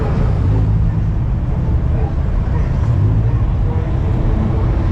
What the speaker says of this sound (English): Ooh, I hear that turbo